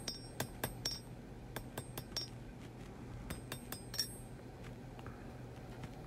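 Hammer blows ring on high carbon steel being forge welded to a railroad spike, about a dozen sharp metallic strikes in irregular bursts over a steady low forge roar.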